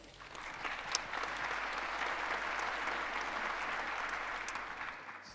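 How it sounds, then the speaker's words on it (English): An audience at the Radiodays Europe 2023 audio summit applauds speaker Guy, a steady, even wash of many hands clapping, heard from a distance and fairly faint, sustained throughout. "Round of applause for Guy"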